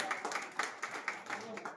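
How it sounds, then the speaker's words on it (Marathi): Clapping from an audience at a rural literary gathering's ghazal evening, a short burst of rhythmic hand claps with regular accents, close and moderately loud, with voices mixed in. "जोरदार टाळ्यांनी आपण त्याचं स्वागत करूया"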